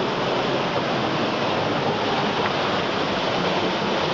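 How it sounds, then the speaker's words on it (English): A waterfall on a cold mountain creek pours down from the hills in a constant broadband roar, steady and fairly close, with no voices. "Waterfall of the whole thing is right here."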